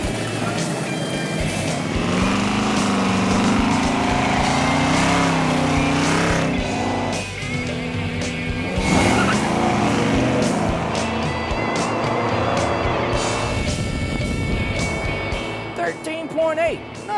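A 1973 Buick Century muscle car with performance upgrades and no traction accelerates hard, its engine roaring loudly and steadily for the whole stretch, with rising revs, gear changes and likely tire squeal mixed into the din.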